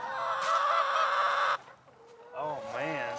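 Chickens at a wind-damaged chicken tractor on a farm in winter give loud, close clucks and squawks, with a brief quieter gap before more wavering calls.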